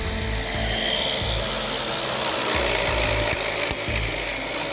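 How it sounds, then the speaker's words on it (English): A homemade 12-volt electric weed eater runs with a steady, buzzing whine up close, and its pitch dips briefly now and then as it cuts. "We're going to put on the weed eater first, the 12-volt weed eater that I made."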